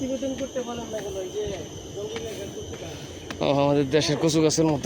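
Crickets chirp in the forest of Fort Canning Park in Singapore, a continuous high shrill buzz in the background while someone talks over it at close range.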